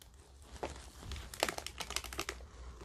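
Rotten leaves are cut and pulled off a rare geranium with stem rot, making crinkly rustling and snapping of plant material, close and soft, with a denser flurry of crackles midway and no speech.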